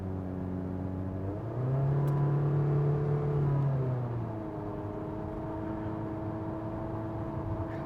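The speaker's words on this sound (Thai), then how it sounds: "ทั้งหมดนี้คือเสียงเครื่องยนต์นะไม่เกี่ยวกับตัวยางนะครับ" A car engine hums steadily while driving on new Nexen N'Fera SU4 tires, rising in pitch briefly as it accelerates and then settling back into a constant drone.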